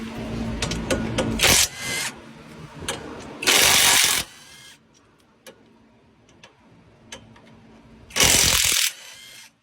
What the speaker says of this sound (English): Let's see if this impact hammer will take it off.